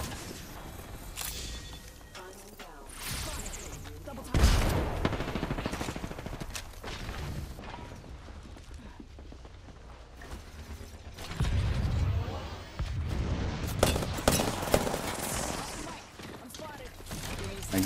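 Rapid gunfire from the Apex Legends battle royale video game, with bursts of automatic shots and heavier volleys around 4–5 and 11–14 seconds over continuous mechanical clatter and game noise.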